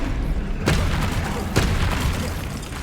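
Incendio fire spell blasts in the video game Hogwarts Legacy: two heavy booming bursts about a second apart over a loud, continuous rumbling background of game sound.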